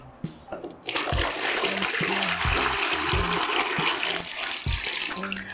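Water pouring steadily into a basin, a continuous broadband splash and gush that starts after a faint knock and runs loud and close with no talk.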